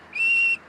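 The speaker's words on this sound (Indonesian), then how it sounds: "Jangan bersiul kayak gitu." A single high, steady whistled note from a person cuts through a heated religious debate, held for about a third of a second, loud and close, with faint room noise around it.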